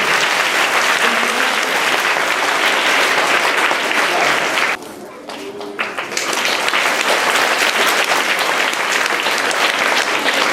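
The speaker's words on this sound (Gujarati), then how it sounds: "આપણે બધા તાળી બજાવશું." Schoolchildren at a primary school uniform-distribution ceremony in Sihor applaud loudly and continuously, a dense roar of clapping with a brief dip midway before resuming at full strength.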